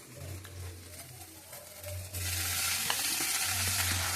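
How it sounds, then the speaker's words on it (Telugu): Chopped vegetables and tomato for upma fry in a pan, starting as a quieter stir and crackle, then swelling midway into a loud, steady sizzle with occasional scraping. "మొత్తం ఫ్రై చేస్తున్నారు"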